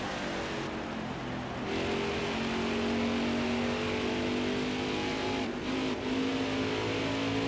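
Stock car engine in the NASCAR Heat 5 racing game at New Hampshire Motor Speedway, one car trailing engine smoke, a steady loud droning roar with shifting harmonic whine that rises and holds throughout, no talk.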